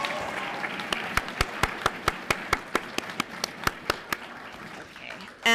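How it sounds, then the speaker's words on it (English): At a high school senior recognition ceremony, applause comes as a run of crisp, evenly spaced claps close by over a faint murmuring crowd, thinning out before a sudden loud burst at the end. "So let's just do one more big round of applause to recognize that in each other"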